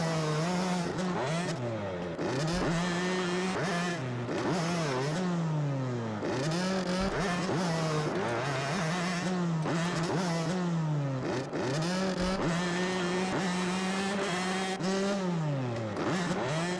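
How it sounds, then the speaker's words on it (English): A dirt bike engine in MX vs ATV Supercross Encore revs hard and continuously, pitch climbing and dropping in repeated surges as gears shift and the clutch is bumped, loud and close throughout. "I'm bumping the clutch a lot and keeping those RPMs up"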